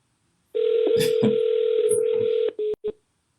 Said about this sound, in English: Everybody's calling. My phone is blowing up.